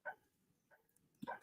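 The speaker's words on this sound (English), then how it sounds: "My dog is barking." A dog barks a few times indoors, sharp separate barks with quiet gaps between them, fairly close and moderately loud against a quiet room.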